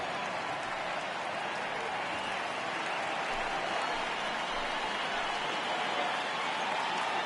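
A stadium crowd in the baseball video game MLB The Show 18 roars steadily through a full-count moment in a Brewers versus Dodgers game, a dense continuous wash of cheering with no break.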